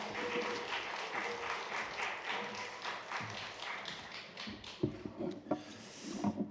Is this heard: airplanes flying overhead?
no